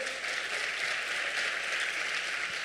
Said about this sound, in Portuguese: vamos dar um aplauso a esse Deus maravilhoso.